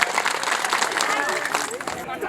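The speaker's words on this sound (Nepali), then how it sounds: "एकचोटि जोरदार ताली बजाइदिनु साउन्ड सिस्टमको लागि।" A crowd at a comedy show claps loudly for a sound system check, a dense burst of many hands close by, holding steady before fading near the end, with a voice talking over it.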